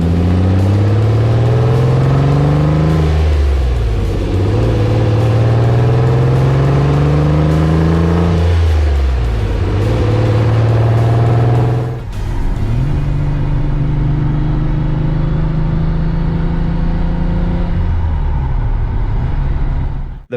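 A Lamborghini Countach's powerful V12 engine revs hard and loud, rising and falling in repeated surges before settling into a steady roar close by.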